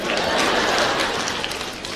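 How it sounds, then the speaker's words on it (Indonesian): A church congregation applauds during a sermon, a dense burst of clapping that stays fairly loud and steady for about two seconds before easing slightly. "Jangan tepuk tangan Pak."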